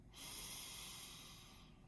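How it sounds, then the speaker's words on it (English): A single slow, deep breath drawn in through the nose during a stress-relief breathing exercise, close and airy, swelling quickly and then tapering off gently. "So we're going to take 3 deep breaths"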